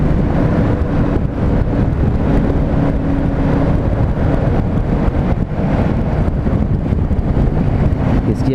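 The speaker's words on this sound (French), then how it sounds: "Qu'est-ce qu'il y a comme vent?" Heavy, constant wind roar buffets the microphone while riding a KTM 790 Adventure R motorcycle through a forest, a dense low rumble that stays loud and unbroken throughout with no talk over it.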